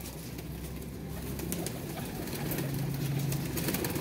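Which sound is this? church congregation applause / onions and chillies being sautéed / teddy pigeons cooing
teddy pigeons cooing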